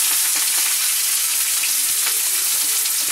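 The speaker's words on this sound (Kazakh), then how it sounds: "баклажанды қуырып аламыз" Eggplant pieces fry in a hot pan, giving a loud, steady, dense sizzle and crackle that runs without a break and with no voices.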